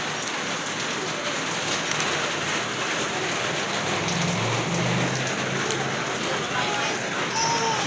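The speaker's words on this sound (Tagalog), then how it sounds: "Naku, ayun na. Lakas na ulan." Heavy rain pours steadily, a sudden downpour, a dense roaring hiss throughout, with a low rumble midway suggesting distant thunder.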